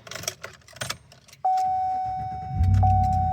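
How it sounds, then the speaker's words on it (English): A Chevy Silverado is started: keys jangle close by, a steady electronic chime tone sounds, then the engine cranks and catches into a low idle rumble under the continuing chime. "So let's see if the vehicle actually starts."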